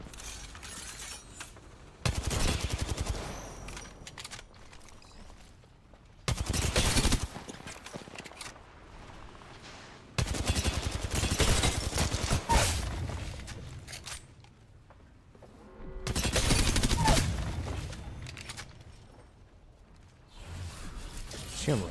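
Automatic weapon fire in Apex Legends, loud bursts of rapid shots in four main volleys separated by quieter stretches of game ambience.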